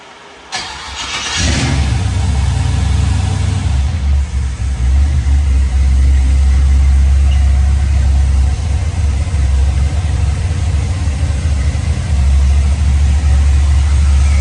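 A Chevy Nova's engine cranks and fires just after a new transmission is fitted, then settles into a loud, steady, rumbling idle heard close up.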